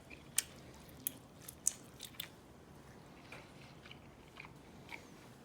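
Someone chews a bite of grilled filet mignon steak dipped in its juices, giving a few soft, close biting and squishy mastication sounds at a quiet level with no talking.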